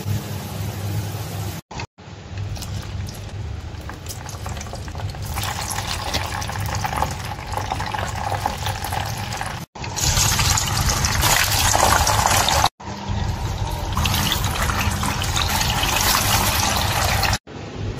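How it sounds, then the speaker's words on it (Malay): Flour-coated potatoes fry briefly in hot oil for rojak India, giving a loud, continuous hiss and sizzle that drops out for a moment a few times and then resumes. "Lepas tu kita goreng sekejap kentang ni."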